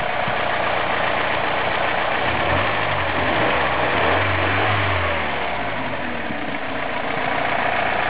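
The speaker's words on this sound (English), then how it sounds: "Good running engine, very smooth." A 1986 Dodge Daytona Turbo Z engine idling steadily with a low, even rumble, close by and continuous, no voices.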